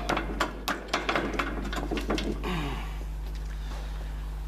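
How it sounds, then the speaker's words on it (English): A rubber mallet taps a pin into place during assembly of a Sterling Pro Assist, giving a run of sharp, close knocks in uneven rhythm over a low steady hum, then the tapping fades out. "Get yourself a rubber mallet or a hammer."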